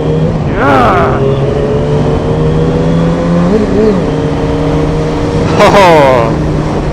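A motorcycle engine hums steadily while riding, its pitch rising and falling with throttle changes under wind noise, with people talking over it at times.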